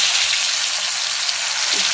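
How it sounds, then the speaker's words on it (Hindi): Fish pieces fry in oil on a tawa, giving a loud, continuous hiss and sizzle that stays close and steady with no talking over it. "हम तलना शुरू करते हैं"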